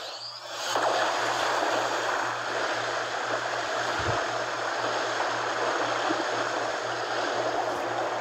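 Flowing water in the Paper Mario: The Origami King water elemental temple, a broad steady rushing like a stream or waterfall that swells in after a moment and holds loud and constant, with a low hum beneath.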